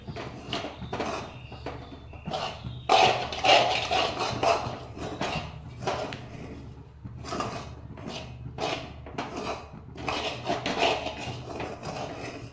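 A utensil clatters and scrapes against a pan while barfi batter made with milk and cream is mixed, giving irregular knocks and clinks close by with no voices.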